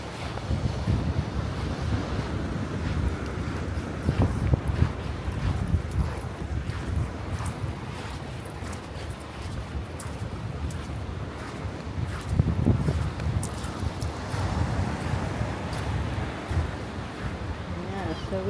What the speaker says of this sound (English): it's a wee bit windy this morning